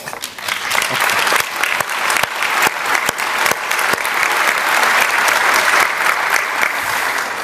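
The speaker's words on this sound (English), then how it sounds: "I believe this calls for an applause." Loud, close audience applause at the IAEA General Conference in Vienna, dense steady clapping from a large hall that carries on for the whole stretch.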